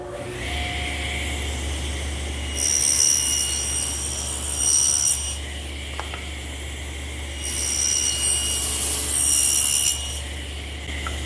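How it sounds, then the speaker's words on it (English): Table saw cutting a tongue into the end of a wooden stile for a blanket chest, two sustained cutting passes rising over a steady motor hum, each lasting a few seconds and close by. "I have to put a tongue in each end so that it'll fit in this groove that we've made for the panels. And I'll do that over here on the table saw."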